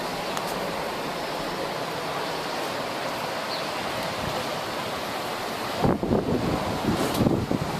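Ocean surf rolls in steadily at Cocoa Beach, a broad continuous wash of waves mixed with gusty wind buffeting the microphone, swelling louder with a couple of stronger gusts near the end.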